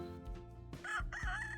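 Chickens and a rooster at home in the evening, with one loud, close cock-a-doodle-doo crow rising midway and clucking beneath it.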